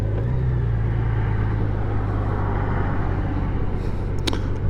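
A sixth generation Honda Goldwing motorcycle engine rumbles steadily and loudly while riding at altitude, a smooth low drone holding even throughout, with wind noise and no talk.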